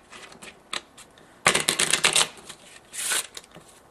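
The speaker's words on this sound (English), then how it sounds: "the first thing I'll ask them to do is give the deck a shuffle" A deck of playing cards is shuffled by hand during a card trick, a close rapid riffling burst lasting about a second, followed by a shorter second riffle after scattered soft handling clicks.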